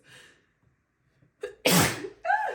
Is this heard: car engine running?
no